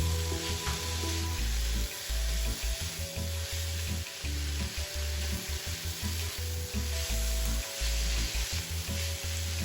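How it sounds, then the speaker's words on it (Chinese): Ingredients for Hakka spring rolls being stir-fried in a pan: continuous loud sizzling with rhythmic scraping and tossing of the spatula, close up, with no voices. "在所有食材炒香后，"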